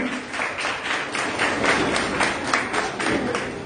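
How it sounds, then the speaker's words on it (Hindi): An audience claps for Anjali in a continuous burst of many hands, a dense rapid patter that holds steady for several seconds with a faint voice underneath. "तालियां बजाइए"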